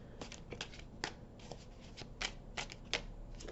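Tarot cards are shuffled and drawn in a string of quick riffling, flicking bursts, close and moderately loud, repeating at an uneven rhythm with no voice over them.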